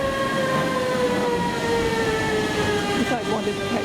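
A regional train at Magdeburg's main station rumbles steadily and loudly close by, with a sustained whining tonal hum. The sound stays continuous throughout the short stretch.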